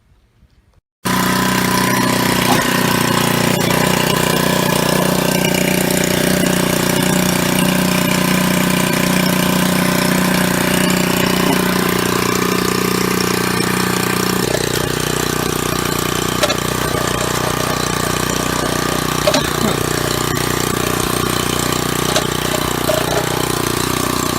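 A restored 1946 Cunningham walk-behind tractor engine starts and runs steadily, a loud, close, continuous mid-pitched chug that settles into an even idle with a slight change in tone partway through, with no talking.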